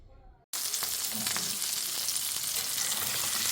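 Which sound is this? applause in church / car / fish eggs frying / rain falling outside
fish eggs frying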